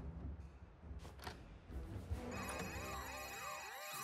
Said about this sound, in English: quick, superhero, answer the phone.